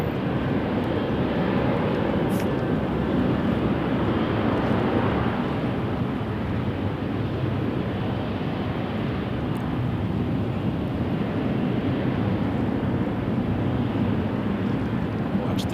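A Jazz airliner takes off from runway 23 at Toronto Pearson, its distant jet roar a steady broadband rush that holds evenly throughout, with a few faint clicks.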